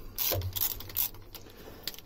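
A ratchet undoes 12 mm bolts on a Beta 38 narrowboat engine, giving quiet close-up bursts of metallic clicking with short pauses.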